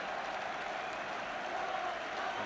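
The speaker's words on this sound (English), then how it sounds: "the crowd giving him a tremendous reception" A football crowd applauds Martin Dobson on his return to the pitch, an even, distant roar of clapping that holds steady and fairly faint throughout.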